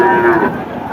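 A local-breed cow at a cattle market lets out a single loud, close moo that fades after half a second, followed by a low background murmur.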